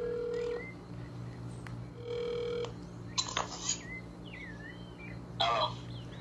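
A phone call being dialed and ringing, with steady electronic ring tones repeating in two bursts followed by brief chirpy beeps and clicks, faint and close with no talking.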